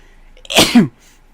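A single sharp sneeze bursts out close by, brief and loud, surrounded by near silence.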